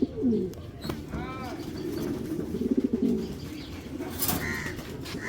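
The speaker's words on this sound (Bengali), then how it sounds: "এটা আমার ঘরের বিডার কবুতর" Breeder pigeons in a home loft coo in soft, repeated rolling phrases, with wing flutters and other birds nearby, under a steady background hum.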